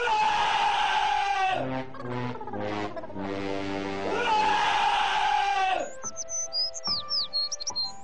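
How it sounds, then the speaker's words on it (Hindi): Piercing human screams in a screaming contest, long loud shrieks with warbling breaks, followed by quieter scattered squeaky vocal sounds and murmuring voices near the end. "ये सबसे ऊंची चीख थी"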